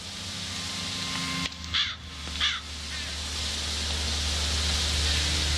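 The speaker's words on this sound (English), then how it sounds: "Large black crows." Large black crows in a video game give two loud, harsh caws close together over a steady low background drone.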